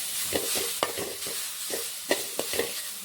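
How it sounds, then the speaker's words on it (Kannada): Onion and capsicum frying in a little oil, a constant close sizzle broken by a handful of sharp spatula scrapes and stirring knocks at an uneven pace. "ಒಂದು ಚೂರು ಎಣ್ಣೆ ಹಾಕೊಂಡಿದ್ರೆ ಇವಾಗ ಒಂದು ಸ್ವಲ್ಪ ಫ್ರೈ ಮಾಡಿಕೊಂಡು ಇದ್ರ ಒಟ್ಟಿಗೇನು ಈರುಳ್ಳಿ ಮತ್ತು ಕ್ಯಾಪ್ಸಿಕಮ್ ಹಾಕೊಳ್ಳೋಣ"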